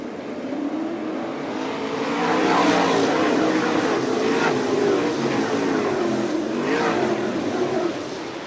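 Sprint cars race on a dirt oval at Fremont, Ohio during the All Star Circuit of Champions Speedweek. Several loud engines roar and rev steadily through the whole stretch, rising slightly as the pack passes, with no talk.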